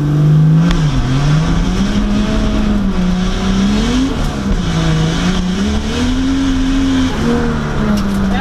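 A Holden VL Turbo race car climbs a sealed hillclimb course at Tara Hills, its loud engine droning steadily close by as the pitch rises and falls through gear changes and revs.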